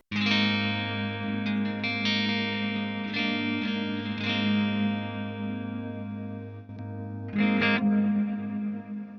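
An electric guitar on its single-coil pickup setting rings out sustained, chord-like tones with a bright, effected sound. The strings are re-struck a few times, close and loud, with no talking.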